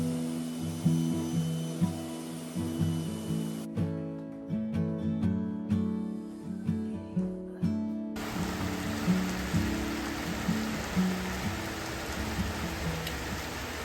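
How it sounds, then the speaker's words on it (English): Steady rain patters outside, a continuous hiss with soft drops, heard alone from indoors without anyone speaking. "It's raining outside."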